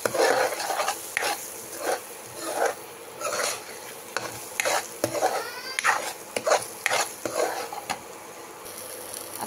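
Spices fry in a pan for butter paneer masala, a soft sizzle broken by repeated scraping bursts of stirring and light metal clinks, close and without talk.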